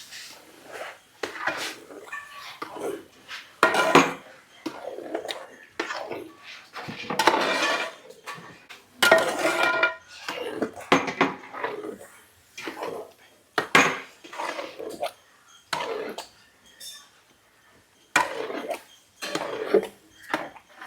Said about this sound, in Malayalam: നല്ല രീതിയിൽ ഇത് മിക്സ് ചെയ്യണം.